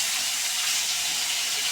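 Stinging catfish, salted first, sizzles in oil in a kadai in a home kitchen. A loud, steady, bright frying hiss runs unbroken throughout, with no talking over it.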